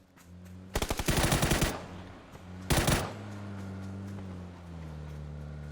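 Automatic gunfire in a PUBG match, two rapid bursts of shots heard from a distance, the first longer than the second, over a steady low hum.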